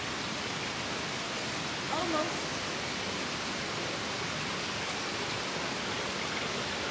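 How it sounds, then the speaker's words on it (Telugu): A small park stream flows beside a footbridge at Flyer Park in Singapore, a constant loud hiss and rush of running water that fills the whole stretch evenly. "వాటర్ ఫ్లో చక్కగా ఉంది"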